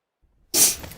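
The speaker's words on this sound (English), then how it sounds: "Been sneezing a lot, guys." One sudden, sharp sneeze bursts out after a brief silence, close to the microphone, with a breathy hissing tail that fades within half a second.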